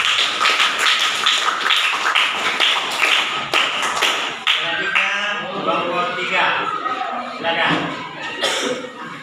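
Classroom applause in a madrasah Qur'an and Hadith lesson: quick, dense hand clapping from a group of students that runs throughout, with chatter and a little laughter mixed in.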